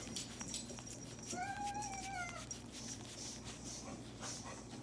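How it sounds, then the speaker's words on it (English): A kitten gives one short rising-and-falling meow indoors, faint and off to the side against a low steady hum. "there goes the kitten"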